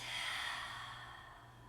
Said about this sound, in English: Easy breath out.